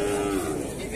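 Cow at a cattle fair in Dois Riachos, Alagoas, giving one close, loud moo that lasts the whole moment, with faint crowd noise around it.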